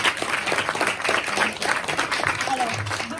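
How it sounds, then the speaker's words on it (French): An audience at a special live radio broadcast claps as a guest is invited up, a brief burst of applause mixed with talking and crowd murmur. "On peut l'applaudir un peu"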